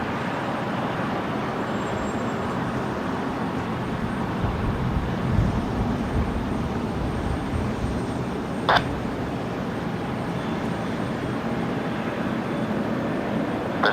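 A jet airliner taking off at Brisbane Airport produces a steady, broad roar that holds at a constant level for the whole stretch, with a short sharp click partway through and no talking.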